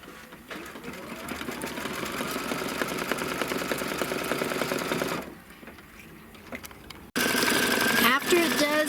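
An embroidery sewing machine stitches a small detail inside glitter sheet fabric using pink thread, a continuous rapid mechanical chatter that drops out briefly, then resumes louder near the end.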